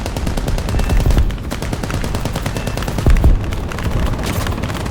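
Gunfire from a Chinese IL-10 attack aircraft in War Thunder, dense rapid bursts over a steady engine drone, with two heavier louder volleys standing out.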